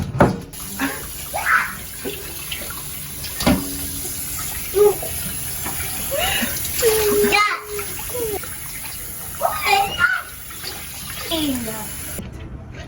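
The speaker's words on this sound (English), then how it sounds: "She's going to wash it with water." Running tap water splashes steadily in a sink as raw chicken is washed, with people talking intermittently over the flow and occasional clatter.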